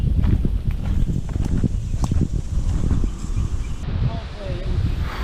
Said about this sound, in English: It's getting windy out here, man.